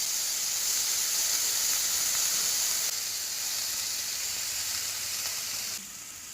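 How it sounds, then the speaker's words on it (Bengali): Bottle gourd peels fry in mustard oil in a kadai with dried red chilli and nigella seeds, giving a continuous bright sizzle and hiss that eases slightly near the end. "তারপরে কড়াইতে সর্ষের তেল দিয়ে শুকনো লঙ্কা ফোড়ন দিলাম, তারপর কিছুটা কালো জিরে দিলাম, তারপর খোসাগুলোকে ছেড়ে দিলাম।"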